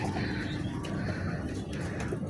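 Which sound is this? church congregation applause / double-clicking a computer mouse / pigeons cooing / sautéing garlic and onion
pigeons cooing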